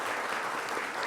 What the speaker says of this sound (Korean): 우리 박수로 환영해 주시겠습니다.